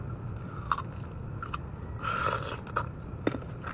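Someone bites into sour fruit dipped in sugar, giving a few crisp, close crunches and one brief chewing burst over faint background hiss.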